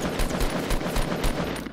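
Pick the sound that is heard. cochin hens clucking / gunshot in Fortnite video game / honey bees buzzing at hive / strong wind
gunshot in Fortnite video game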